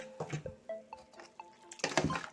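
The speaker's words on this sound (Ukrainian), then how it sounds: "Заливаємо холодною водичкою" Cold water poured over salted cucumber slices in a bowl, a few short splashes and trickles with light clinks of dishware, close and fairly quiet.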